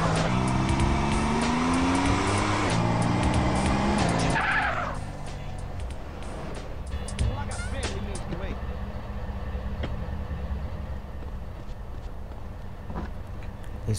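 Game car in GTA: San Andreas revving hard with tire squeal and skidding for the first few seconds, then dropping to a steadier engine drone with scattered clunks and background game noise.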